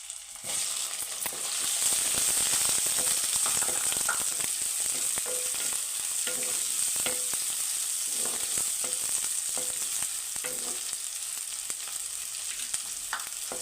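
Onions frying in a pan with curry leaves and tempering spices, a loud continuous sizzle broken by repeated stirring scrapes, with no talk.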